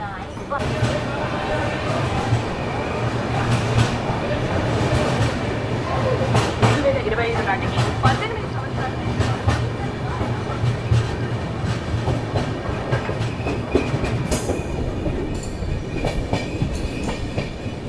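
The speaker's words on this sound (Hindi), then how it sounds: "2 मिनट का हॉल्ट लेके अपने डिपार्चर हो गया है काजीपेट जंक्शन रेलवे स्टेशन से" An express train departs Kazipet Junction station and rolls steadily along the rails with a continuous low rumble and rhythmic wheel clatter, close by, with a few sharper metallic squeals near the end.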